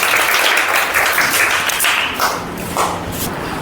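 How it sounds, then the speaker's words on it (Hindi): A classroom of students claps their hands together in a burst of applause, many overlapping claps forming a loud, lively patter that eases slightly toward the end. "ताली बजाइए।"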